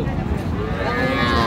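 Cattle at the Raniganj livestock market in Ghoraghat, Dinajpur, with a possible low moo buried in a dense, steady crowd murmur and overlapping voices throughout.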